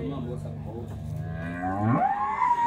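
Cattle at a weekly livestock fair in Canafístula, Alagoas, give a single loud, drawn-out moo that rises and swells near its end, close to the listener, with no talk over it.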